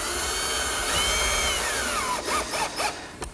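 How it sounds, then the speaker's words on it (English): A power drill drives 1 5/8-inch screws through clips into the wooden top of a monastery table, a steady whirring buzz with short bursts of higher motor whine near the end, close and fairly loud. "I just slide the clips into the groove and drive some 1 5/8" screws"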